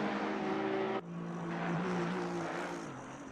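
Race cars, a Porsche among them, roar steadily as they exit the pits at the Zolder circuit during a four-hour endurance race, with engine tones that shift and briefly dip partway through.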